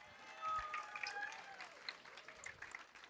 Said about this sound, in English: Little round of applause.